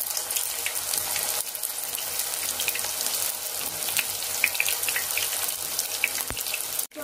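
Soya chunks dropped into hot oil give a steady, dense sizzle of frying that fills the whole stretch, with small pops scattered throughout and a brief sharp clatter near the end.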